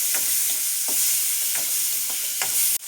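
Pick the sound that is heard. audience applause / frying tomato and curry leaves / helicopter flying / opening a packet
frying tomato and curry leaves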